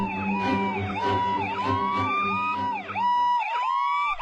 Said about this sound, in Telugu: టైంకి అంబులెన్స్ వస్తుంది